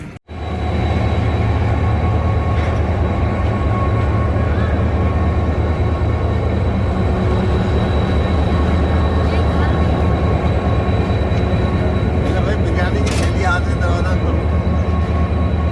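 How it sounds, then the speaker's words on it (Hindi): Sukkur Express train pulling into Sukkur station, a steady loud rumble of wheels and engine running continuously throughout, with a brief higher whistle-like tone near the end. "सक्खर एक्सप्रेस भी आ रही है, राइट टाइम पहुंच रही है सक्खर स्टेशन पर।"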